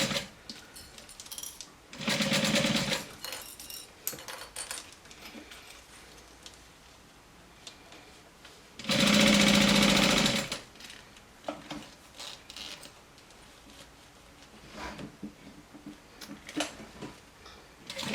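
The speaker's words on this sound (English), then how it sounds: "how it looks on a domestic sewing machine" A sewing machine stitches in two short runs, a steady whirring rattle, with quiet pauses and faint handling noises between them.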